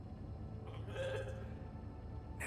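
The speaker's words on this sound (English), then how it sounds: "Never thought I'd be so glad to see a sheep." A sheep bleats once, moderately loud, in the video game The Alters, set over a steady low background hum.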